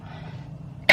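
A single sharp cough bursts out at the very end, close and loud, after a moment of quiet room tone.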